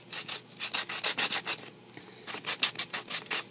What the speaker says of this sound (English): I'm gonna maybe do a little bit of sanding on it to smooth things out